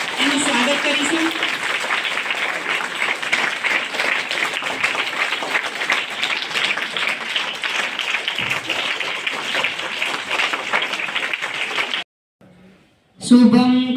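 An audience at a farewell ceremony applauds to welcome a guest, a dense sustained burst of clapping that stops abruptly, followed after a short silence by a voice.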